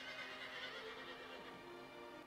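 A horse whinnies in the Shadow of the Colossus video game, set against a dense, noisy game soundscape that stays steady and loud throughout.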